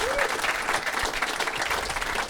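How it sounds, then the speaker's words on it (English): Steady audience applause fills a comedy club at a comedy festival, a dense, continuous clatter of many hands clapping, close and even in loudness throughout. "Big round of applause for this festival."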